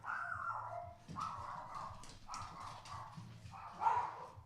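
A dog barks and yips in several short bursts, faint and somewhat distant, with brief gaps between them and no one speaking.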